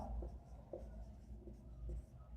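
A pen scratches on paper while a class 8 geometry problem about ring circumference is worked out, with steady short strokes, close and quiet, and no speech.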